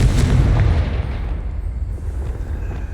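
A Confringo fire spell blasts in Hogwarts Legacy, a loud, low booming burst that hits at once and rolls on as a rumbling roar, fading slightly over a few seconds.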